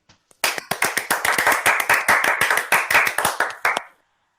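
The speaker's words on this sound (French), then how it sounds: "Ce sont des applaudissements confinement." A few hands clap during lockdown, close and crisp, a quick run of sharp individual claps with clearly separated strikes that start suddenly and fade after about three and a half seconds.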